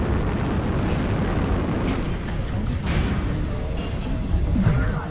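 A grenade explosion in a video game gives a low, rumbling blast that rolls into a steady debris-like roar, moderately loud throughout.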